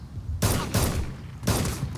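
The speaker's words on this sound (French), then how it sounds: "Ça tire." Bursts of gunfire from the survival game DayZ crack out in three rapid volleys, loud and close, with short gaps between them and no speech over them.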